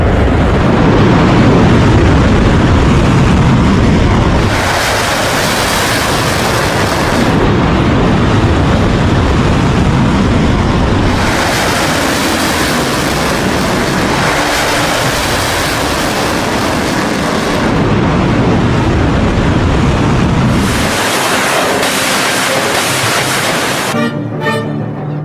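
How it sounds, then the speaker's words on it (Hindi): Missiles launched during Iran's attack on Israel make very loud, sustained rushing roars that surge in several long waves, each swelling and fading, with a brief drop before a final burst. "और उसके बाद मिसाइल दाग दी।"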